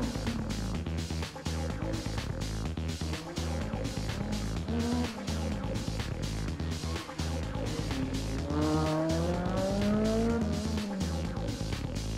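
Rally car on a special stage of the Rallye du Chablais at Champéry, engine revving hard through gear changes with rising and falling pitch sweeps, loud and close, with tire squeal.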